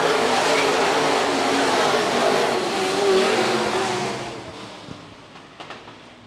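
Modified race cars on a dirt track at Phillips County Raceway roar past in a dense pack, a loud rumbling wash that fades off into the distance, with a commentator speaking over it.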